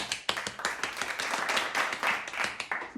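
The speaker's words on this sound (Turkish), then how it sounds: "Hadi kendinize ve bana ve yeni arkadaşıma kocaman bir alkış" Clapping from a small group after a children's piano lesson song, with sharp, fairly dense hand claps running steadily for a few seconds at close range.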